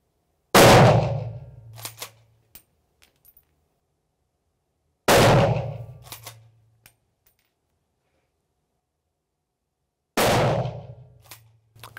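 A rifle fitted with an Aimpoint sight fires three loud, sharp shots, each spaced about five seconds apart, with a short echoing decay after every report and quiet between.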